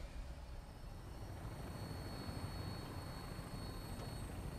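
A Vertibird aircraft flies in Fallout 4. Its engine and rotors make a continuous, even rumbling drone that stays steady throughout, heard from inside the craft with no speech.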